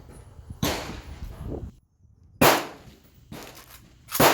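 An MD 65 AK rifle fired from a sandbag rest outdoors, giving four sharp, loud cracks spaced unevenly over a few seconds, with quiet gaps and faint background noise between shots.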